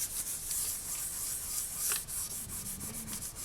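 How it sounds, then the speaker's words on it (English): Black polymer clay, rolled out on the thickest setting of a pasta machine, being burnished flat: a soft continuous rubbing and sanding hiss, close and steady, with a brief scrape near the middle and no voices. "I'm just going to give it a quick burnish, just to flatten it out"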